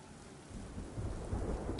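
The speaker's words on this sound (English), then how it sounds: "What's with all the rain?" Heavy rain pouring across Gotham streets in Batman: Arkham Knight, with a deep rolling thunder rumble swelling underneath the constant downpour.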